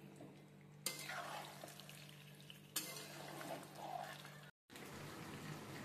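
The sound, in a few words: chicken with spices frying and stirring on medium flame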